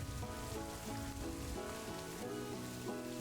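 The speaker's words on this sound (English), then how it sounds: "You're not even hidden from the rain here." Steady, faint rainfall patters on the ground in the Planet Zoo game, with soft melodic game music running underneath.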